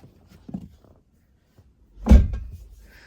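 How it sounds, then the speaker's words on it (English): A few soft shuffling clicks, then one solid thunk of a 2017 Honda Pilot EX-L car door being shut from inside, followed by a brief muffled settling. "close the door."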